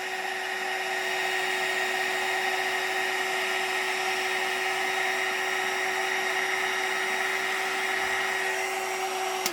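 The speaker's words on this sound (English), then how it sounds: "we've dried them in a sense with the heat gun" A heat gun blows steadily over a handmade bee-themed card to dry it, a continuous whirring fan hum with a high whine, held evenly until it cuts off at the end.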